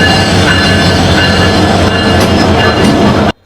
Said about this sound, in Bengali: ইতিমধ্যে কক্সবাজার এক্সপ্রেস ট্রেনটি কমলাপুর রেলওয়ে স্টেশনে এসেছে